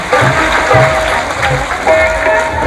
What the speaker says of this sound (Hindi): एक बार राम बाबा का भी आप तालियां बजाकर